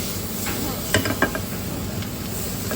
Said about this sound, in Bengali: হ্যাঁ, এটা ভালো করে কষাই নেবো।